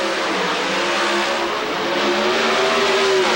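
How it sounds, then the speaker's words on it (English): Pro Stock drag racers, a Pontiac and an Oldsmobile, roar down the strip side by side, a loud sustained engine howl that climbs steadily in pitch as they accelerate, with no voices. "In the finals of Pro Stock Eliminator, Leal in his Pontiac was racing against Warren Johnson."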